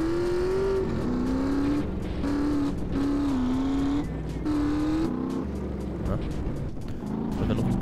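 A car engine in GTA San Andreas, driving cross-country over rough ground, revving in repeated rising strokes through gear changes, loud and close, with someone talking over it.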